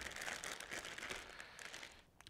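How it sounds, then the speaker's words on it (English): Plastic bag of potatoes being cut open with scissors, a steady close crinkling and rustling of plastic through most of the moment, tapering off with a few small crackles at the end. "Take a pair of scissors, open your bag nice and carefully, pop them onto a nice oven tray."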